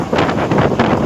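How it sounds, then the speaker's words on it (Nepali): Hot wind blowing outdoors, a brief gusty roar buffeting the microphone with a broad, rough whoosh that rises and falls over about a second. "तातो तातो हावा चलिरहेछ"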